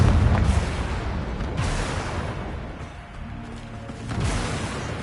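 A fiery Confringo blasting spell goes off in Hogwarts Legacy, a heavy booming burst near the start that decays into a lingering rumble, with a second swell of blast noise near the end.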